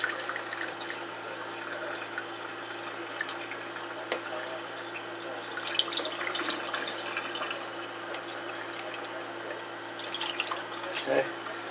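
Heirloom beefsteak tomato seeds rinsed under a running faucet, a steady close stream of water with dripping and splashing bursts as the seeds are worked by hand.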